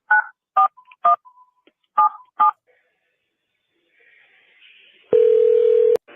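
A jail phone system plays its call tones: several short, clear dial-tone beeps in an uneven rhythm, a quiet gap with faint hiss, then a loud steady tone lasting nearly a second as the call disconnects, with no talk over it.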